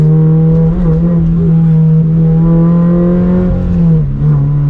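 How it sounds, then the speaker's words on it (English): A Toyota GR86 with an aftermarket exhaust rumbles with a deep, steady exhaust note, rising slightly in pitch as it revs, loud and close throughout. "especially with this exhaust, just a nice deeper tone to it"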